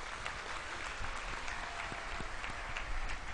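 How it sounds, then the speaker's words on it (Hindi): A large crowd at a Ram Katha religious discourse gives thunderous applause for those seated on the stage, a continuous thick roar of clapping that stays loud and even throughout. "एक बार व्यासपीठ पर जितने भी लोग बैठे हैं, इन श्रोताओं के लिए घनघोर तालियां"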